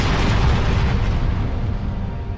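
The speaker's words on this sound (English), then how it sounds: "The explosion distracts Captain, giving Osborn a chance to run" A loud, sustained explosion from a Marvel superhero battle involving a falling helicarrier, a broad rumbling blast that fills the whole clip and slowly tapers without fading out.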